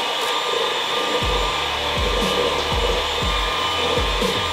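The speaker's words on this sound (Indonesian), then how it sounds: "Jadi di sini aku mixer. Menggunakan speed rendah aja ya, speed 1, karena dia cuma untuk nyampurin aja seperti ini." An electric hand mixer runs at low speed through Oreo pancake batter with a steady whirring hum, and the beaters knock rhythmically against the bowl about once a second.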